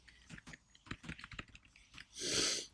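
Close, irregular clicks of typing on a computer keyboard, then a short loud breathy rush near the end.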